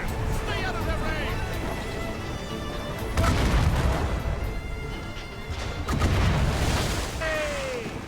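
Mortar fire in Assassin's Creed Rogue, heavy booming blasts and crashes that rumble and rise in bursts over a continuous roar of battle noise, with voices shouting over the action.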